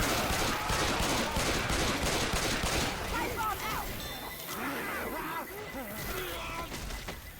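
Gunfire in Left 4 Dead 2 crackles in rapid, dense bursts at the start, then thins into scattered shots mixed with game chaos and voices talking over it.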